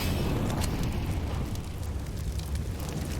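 A grenade explosion in Counter-Strike, on the Anubis map during a professional Liquid versus BIG match, produces a loud, close rumbling blast that trails off into a sustained, noisy roar.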